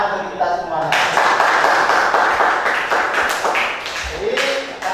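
A classroom of students claps together in a burst of applause lasting several seconds, dense and close, tapering off as a teacher's voice returns.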